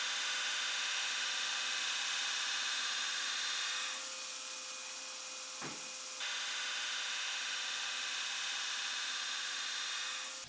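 Belt grinder roughing out a Santoku chef's knife blade, a steady loud abrasive hiss and whine that dips briefly as the steel is lifted, then resumes with a sharp scrape.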